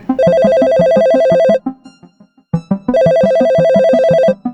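A telephone rings loudly and close in two long electronic trilling bursts separated by a short pause, with soft thumping beats beneath.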